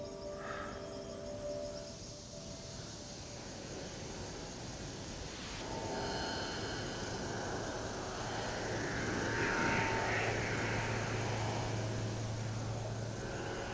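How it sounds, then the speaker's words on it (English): A distant airplane drones high overhead, a faint steady engine rumble that swells slightly and holds over outdoor ambience, with no talking. "this airplane flew out over the top of us, quite high."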